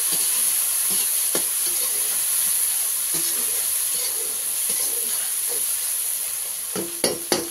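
Raw banana curry sizzles in a pan under a steady hiss while a spoon stirs and scrapes, with a couple of sharper clanks near the end and a high whine running throughout, no talk.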